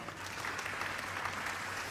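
An audience claps steadily and briskly throughout, a full, even patter of many hands at moderate volume.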